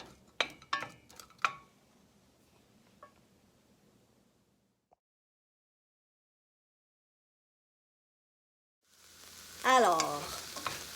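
Frozen onions stirred in a pan give scraping, clattering stirs at first, then near silence, before a loud close sizzle of frying rises at the end.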